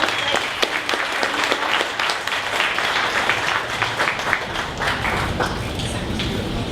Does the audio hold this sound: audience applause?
yes